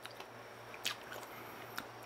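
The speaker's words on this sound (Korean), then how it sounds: "이게 과육 씹히는 소리랑 설탕이 이렇게 깨지는 소리랑" Someone bites into green tangerine brûlée, with a few sharp, quiet crunches of caramelized sugar shell and juicy fruit flesh heard close up against near silence.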